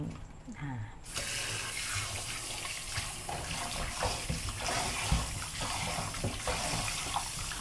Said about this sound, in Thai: แล้วก็ล้างด้วยน้ำเปล่า สักสามสี่น้